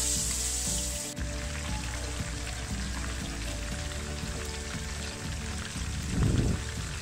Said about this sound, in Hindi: अब इन तमाम जो टींडे हैं इनको शैलो फ्राई कर लेंगे।